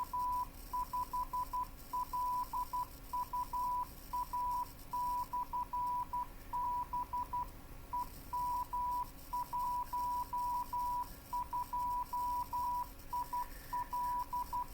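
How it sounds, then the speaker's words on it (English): A 47 GHz amateur radio beacon sends its Morse code CW identification as a steady run of short and long tones, faint and clean over a constant background hiss. "that's the ID portion of the CW"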